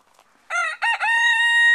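A hen in a backyard coop lets out a short burst of loud, harmonic squawking calls, starting after a quiet moment and swelling into one sustained, insistent cry close by.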